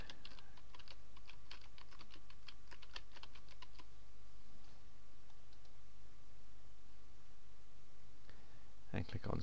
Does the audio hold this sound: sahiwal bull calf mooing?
no